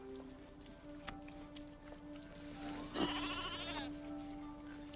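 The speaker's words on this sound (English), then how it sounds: "Will you not scare that goat?" A goat bleats once in a loud, wavering cry amid quiet outdoor background hum and a few faint knocks.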